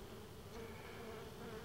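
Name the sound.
honey bees buzzing at the hive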